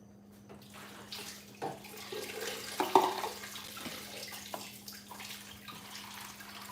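Tap water runs and splashes quietly into a small water dish being refilled for a pet ball python, with a few louder splashes and clunks over a faint steady hum.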